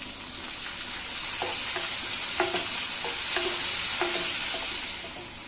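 Onions and tomatoes sautéing in a pan for kaara kuzhambu, a steady loud sizzle with a spoon scraping and stirring at a regular pace, close up and without speech.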